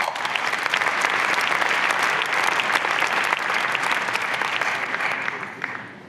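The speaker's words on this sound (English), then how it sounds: "again, I would like to give them a big applause" A conference audience at an opening ceremony gives loud, dense applause, many hands clapping continuously before the sound tapers off at the end.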